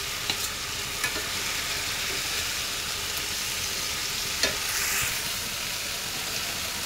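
Fish sautéed and stirred in a pan, a loud continuous sizzle with a few scraping clicks from the spatula, close up and without talk.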